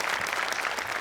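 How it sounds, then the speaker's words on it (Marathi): Studio audience at a Marathi comedy show applauding a performer named Dattu: dense, steady clapping from a crowd filling the whole second at even loudness, with no voices over it. "दत्तूसाठी एकदा टाळ्या."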